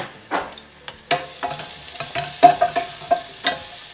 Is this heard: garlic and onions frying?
yes